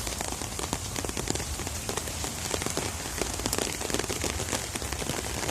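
Steady rain falls in a backyard garden with banana and papaya plants, a dense, even patter of drops on leaves and surfaces, close and continuous with no talking.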